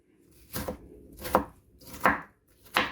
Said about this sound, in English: So down to cutting up my last potato